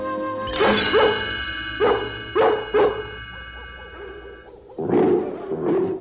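Several dogs bark in separate bursts, some deep and some higher, with short pauses between, followed by a longer howling bark near the end.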